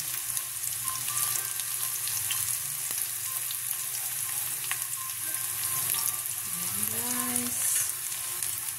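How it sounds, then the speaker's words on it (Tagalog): Chopped garlic sautés in a hot pan while spaghetti sauce is being prepared, a loud, steady sizzle with occasional stirring scrapes, close and uninterrupted by talk. "Ginisa natin na bawang."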